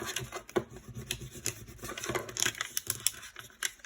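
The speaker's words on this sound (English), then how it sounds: "if you have a little corner that doesn't want to go, just scrub back over it." Vigorous scrubbing and rubbing over heat-transfer vinyl on a fabric potholder, a close, dry, rapid back-and-forth scraping texture with rhythmic strokes and no voices.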